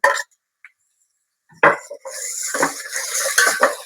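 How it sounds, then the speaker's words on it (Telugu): Chopped tomatoes go into a pan of cooking ginger garlic paste: a short clink, a pause, then a sudden clatter of pan and utensil followed by continuous scraping and stirring noise, close and fairly loud. "అల్లం వెల్లుల్లి పేస్ట్ పచ్చివాసన పోయిన తర్వాత టమోటా కట్ చేసి పెట్టుకున్న టమోటా వేసేసుకుందామండి."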